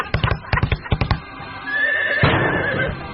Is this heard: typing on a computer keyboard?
no